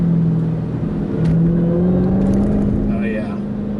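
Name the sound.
supercharger whine of Dodge Challenger Hellcat manual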